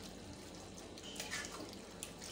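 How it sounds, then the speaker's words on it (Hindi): Water poured into a cooking pot for shami kabab: a short, steady splashing stream with a soft hiss, close and faint, with no talk. "अब इसमें मैं 1 कप पानी ऐड करूंगी।"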